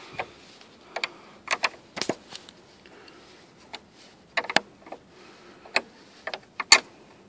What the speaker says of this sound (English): We take our 10mm wrench and tighten that down.